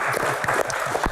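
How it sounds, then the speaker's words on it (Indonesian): Audience applause during an Indonesian Q&A show, a short burst of steady crowd clapping, fairly loud and continuous throughout. "Tepuk tangan."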